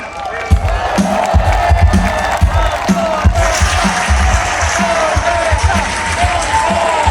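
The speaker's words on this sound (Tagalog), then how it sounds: "Sampung palakpak para kay Senator Marcoleta. Dagdagan pa natin" A large, loud crowd applauds and cheers for Senator Marcoleta, steady clapping mixed with shouts and whoops that continue for the whole stretch.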